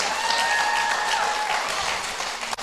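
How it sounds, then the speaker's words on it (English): A large audience claps and cheers loudly and steadily at a church service, sustained applause that holds nearly the whole stretch before dropping off abruptly at the end. "Somebody clap your hands"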